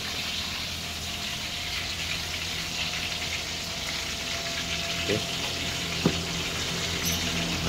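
Onion, ginger, pepper, carrots, lemon and garlic fry in a pan with a quiet, continuous sizzle, broken by a couple of faint clinks near the end.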